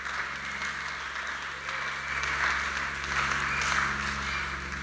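A church congregation applauds and acclaims the Lord during a Wednesday evening prayer service: steady, dense clapping from many hands that swells slightly partway through, with no talking over it.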